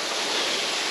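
Adkins Creek Falls, the main fall in a canyon, pours as a loud, broad, steady roar of falling water, close and unbroken for the full second.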